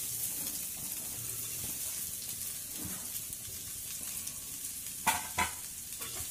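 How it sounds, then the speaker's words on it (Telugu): Soaked flattened rice (poha) is stirred in a hot pan, giving a soft continuous sizzle with scraping stirs and a couple of sharper clatters near the end, close and fairly quiet. "ఇప్పుడు మనం ముందుగా నానపెట్టుకున్న అటుకులు ఉన్నాయి కదా, ఇవన్నీ తీసి దీంట్లో వేసేసుకోవాలి."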